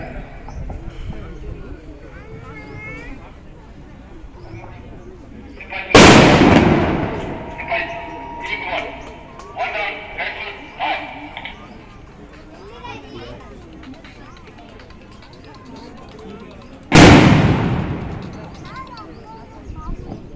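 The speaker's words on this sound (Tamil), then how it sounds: "மரணத்தை உறுதி செய்யும் விதமாக தலையில் சுடுதல் ஹெட்ஷாட் முறை மேற்கொள்ளப்படும்" Two loud, close gunshots ring out about eleven seconds apart during a terrorist attack demonstration at an army expo in Coimbatore, over crowd noise and commentary in Tamil.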